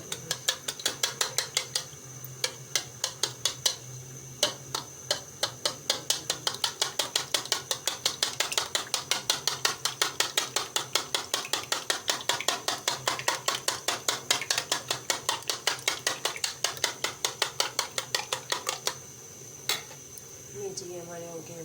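A spoon beats three eggs in a bowl with rapid, steady clinks and taps repeating for nearly twenty seconds, close and crisp, then stopping, with a voice speaking briefly near the end.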